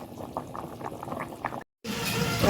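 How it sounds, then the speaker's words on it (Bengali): Tea boiling in a pot on a stove, a close, steady bubbling that cuts out briefly and then returns louder. "এদিকে চা ফুটছে"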